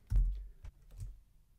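A few quiet keystrokes are typed on a computer keyboard, close-up sharp clicks with short gaps between them, and no talk.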